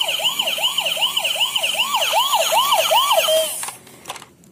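A toy ambulance siren switched on at a party table sounds a loud, close electronic wail that rises and falls in quick repeated cycles, then cuts off abruptly near the end, leaving faint clicks and room noise.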